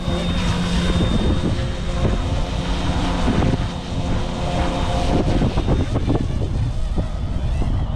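A small scale RC model helicopter whines steadily nearby in wind, its motor and rotor buzzing continuously with a high tonal hum and gusty wind noise.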